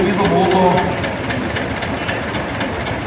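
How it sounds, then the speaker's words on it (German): A water- and air-cooled two-cylinder tractor engine runs steadily nearby at a harvest festival tractor parade, its rhythmic chugging pulses even and loud, with a voice briefly heard over it at the start. "als Wasser- und luftgekühlten Zweizylinder-Motor gefertigt"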